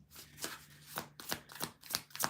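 A deck of cards being shuffled, a quick run of crisp riffling bursts and soft snaps, close and quiet, with no talking.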